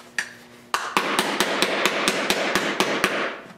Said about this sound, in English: I use this small hammer and the ball peen and the other ones over the anvil to smooth it out